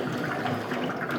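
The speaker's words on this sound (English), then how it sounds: "I can hit this pressure relief here, and right there, I just got water." Water released from a tire's pressure relief valve while loading a tire with liquid ballast, a short steady hiss and spray, close and moderately faint.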